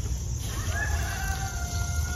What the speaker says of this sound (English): Can you hear the roosters next door?